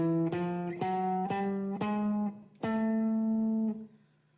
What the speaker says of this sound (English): if we play all 12 notes without missing any out, that's called a chromatic scale.